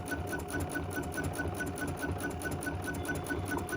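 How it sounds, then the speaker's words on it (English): An embroidery machine stitches a bean stitch on fabric held in the hoop, a steady, fast, even mechanical chatter that runs throughout with no pauses and no talking. "Oh, it's going to do a bean stitch. This is a bean stitch."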